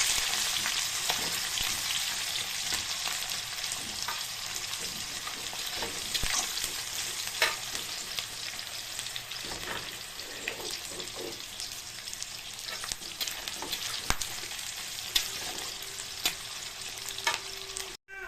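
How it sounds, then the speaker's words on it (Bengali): Onion and green chilli fry in oil, a continuous close sizzle with repeated scraping stirs of a spatula throughout, no voices. "ভাজা ভাজা করে নেব"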